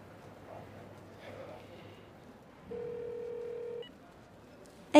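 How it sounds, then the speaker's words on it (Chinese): A telephone line tone plays in a quiet room as a call is placed, a faint low hum followed by one clear steady tone lasting about a second. "干脆我现在给他打个电话吧"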